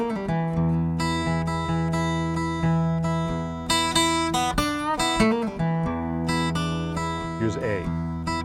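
Acoustic blues guitar played solo, a lick drawn from the E blues scale over changing chords: plucked single notes and bends over ringing bass strings, close and clear, with no talking.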